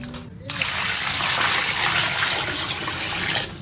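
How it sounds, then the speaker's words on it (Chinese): Chicken heads blanching in a pot of water, a steady wash of splashing and churning water that starts after a brief quiet moment and runs loud and continuous to the end. "焯一下水，"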